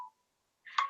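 A phone signals an incoming call with a short electronic beep, a moment of silence, then a brighter, louder ringing tone that is cut off at the end.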